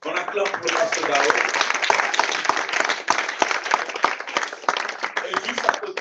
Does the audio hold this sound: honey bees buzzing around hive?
no